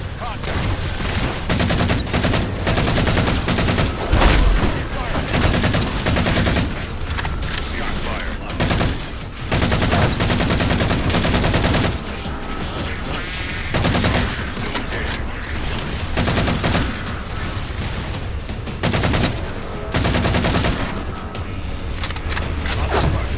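Sustained heavy gunfire from Halo 4 combat, dense automatic bursts and booming shots running nearly continuously and loudly throughout, with brief lulls between volleys.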